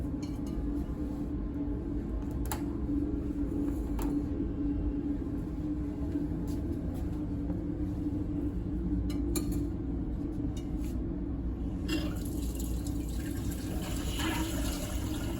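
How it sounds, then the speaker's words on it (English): Water poured into a laboratory apparatus for a heat capacity ratio experiment, a continuous soft splashing fill with a few small clinks, heard alone at moderate distance. "I will first add water to here."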